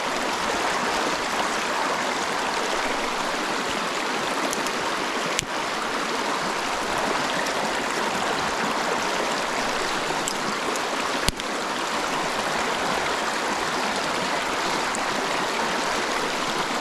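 A Canadian wilderness river rushes past in a steady, broadband wash of flowing water, close and constant for the whole stretch, with a couple of faint clicks and no voices.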